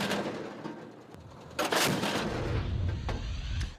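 Ukrainian soldiers open fire on Russian forces near Bakhmut: heavy booming shots ring out, a few spaced blasts followed by a louder sustained burst of firing with echoing rumble.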